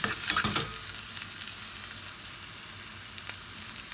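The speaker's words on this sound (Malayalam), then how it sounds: "നാല് ചെറിയ ഉള്ളി വട്ടത്തിൽ അരിഞ്ഞത് 1 സ്പൂൺ നെയ്യിൽ ഫ്രൈ ചെയ്തിട്ട്" Sliced shallots fry in a spoonful of ghee for drumstick leaf soup, with a brief clatter of stirring at the start and then a steady, close sizzle.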